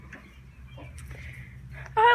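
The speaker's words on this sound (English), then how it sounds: "Oh yeah, rooster." A farm rooster gives a few soft clucks and calls at middle distance, with quiet ambient noise around it and a sharper bird call at the very end.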